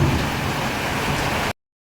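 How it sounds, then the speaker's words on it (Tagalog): Heavy rain during a thunderstorm, a dense steady hiss that cuts off abruptly after about a second and a half, with no voices. "Thank you for the rain."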